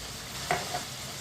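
A spoon stirs Shinwari karahi meat and cooked tomatoes in a hot pan, giving one quick metallic scrape and clink over a soft, steady sizzle.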